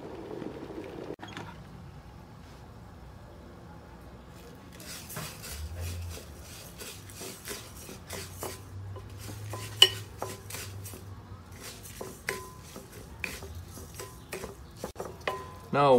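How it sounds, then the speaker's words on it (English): Tapioca pearls are mixed with boiling water in a mixing bowl, giving quiet, close scraping, clinking and stirring sounds against the bowl in irregular bursts, with soft pauses between. "pour a little bit at a time, okay, and start mixing it until our tapioca pearl stick together"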